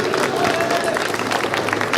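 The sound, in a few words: audience applauding a cosplayer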